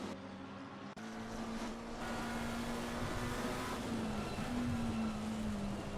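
McLaren race car in a sim racing game on a wet Suzuka circuit, a steady engine drone with a sustained tone that wavers slightly, constant and moderately loud, no talk.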